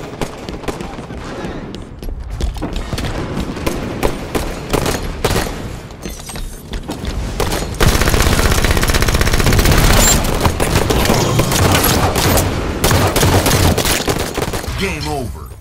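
Weapon fire from a scattershot in Halo 5: Guardians multiplayer, with dense, loud bursts of repeated shots running through the whole stretch and growing heavier and more sustained toward the end, amid chaotic game noise and some voice activity.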